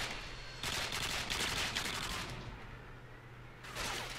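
Automatic gunfire rattles in Modern Warfare 2 during a free-for-all match, with rapid bursts in two clusters separated by a short lull, fairly faint and heard without any talking.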